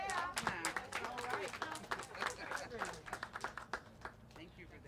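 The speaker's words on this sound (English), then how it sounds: "Can we have another round of applause?" An audience claps at an elementary school event marking a nutrition partnership between a teachers' union and a food charity, a dense patter of hands mixed with voices and chatter throughout.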